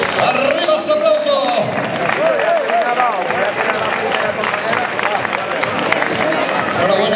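Continuous clapping and cheering from the crowd at the Ribera del Guadaira road race as runners are honoured, a dense wash of applause mixed with hubbub beneath an announcer talking over a loudspeaker.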